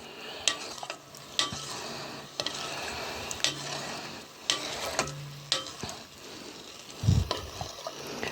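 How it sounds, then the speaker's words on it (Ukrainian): Salt and sugar stirred into a zucchini marinade in a pot, steady scraping and swishing strokes with a few knocks of the spoon, close and moderately quiet with no talk. "Ось так я помішую, як ви бачите, майже вже розтало."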